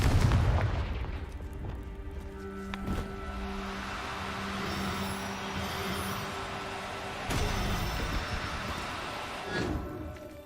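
Explosive Confringo spell blast in the Hogwarts Legacy video game, a booming hit at the start followed by a sustained rumbling, crackling wash with further thuds later, fairly loud and unaccompanied by talk.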